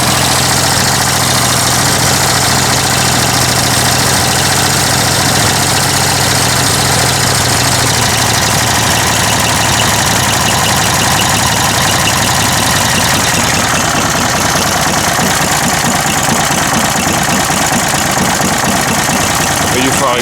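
A Wolf PM-Quantum 35 lawn mower engine fitted with a Toro exhaust idles loudly and steadily up close, a continuous even running drone throughout.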